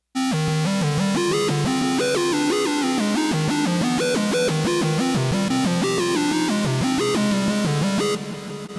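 Computer-generated music chopped into short six-bar chunks, a busy stream of synthesized notes shifting pitch rapidly, dense and continuous at steady volume, ending abruptly.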